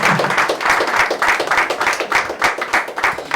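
A church congregation applauding together, a steady, loud run of hand clapping that rises and falls in bursts, close and dense, with no clear talk over it.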